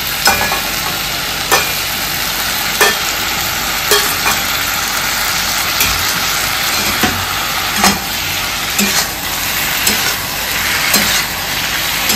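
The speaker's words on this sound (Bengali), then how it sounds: "এবার ভেজে রাখা ইলিশ মাছের মুড়োগুলো দিতে হবে।" Fried hilsa fish heads are stirred in a hot pan with cooked-down spices, giving a steady loud sizzle broken by sharp scraping strokes of a spatula every second or so, with no voices.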